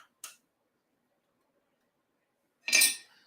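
Screws being cracked loose on the top cover of a Dillon 1050 reloading press, two sharp metallic clicks, a brief one early and a louder, longer rasping clink near the end, close and isolated in silence.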